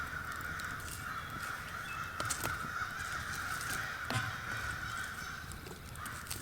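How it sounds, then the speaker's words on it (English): Crows caw repeatedly around a campsite in the woods, harsh calls scattered at varying distances over a steady hiss of outdoor ambience, with a few louder nearby caws. "Man, them crows are something else right now."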